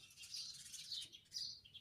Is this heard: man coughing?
no